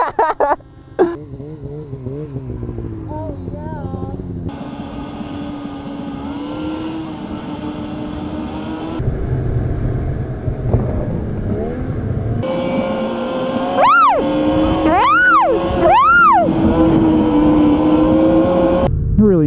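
A snowmobile engine revving loudly during a group ride, close and continuous, with its pitch rising and falling through several sharp throttle sweeps that become stronger toward the end.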